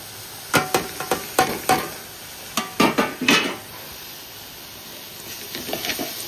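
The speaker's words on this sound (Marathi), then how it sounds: "व्यवस्थित परतून घेऊ।" Grated coconut with grated cashews and almonds is sautéed for a modak filling, heard as a run of sharp spatula scrapes and clatters against the pan in quick bursts, then a quieter stretch with faint stirring.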